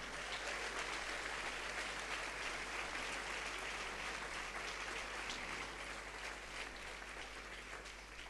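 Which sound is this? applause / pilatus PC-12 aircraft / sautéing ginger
applause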